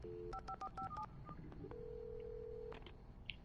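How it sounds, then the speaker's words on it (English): Phone number being dialed in the video game Alan Wake Remastered: a quick series of keypad tones beeping in an uneven rhythm, then one long steady ring-like tone, heard alone without talk. "Let's make a nice little phone call now."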